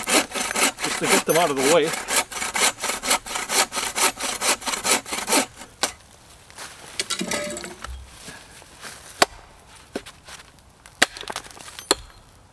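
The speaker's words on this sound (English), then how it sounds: "So I'm just going to cut off these knots" Hand saw cutting knots off wooden logs while building a bushcraft lean-to shelter at a day camp: a quick run of close, rhythmic rasping strokes, then scattered knocks and handling noises, with a brief spoken remark.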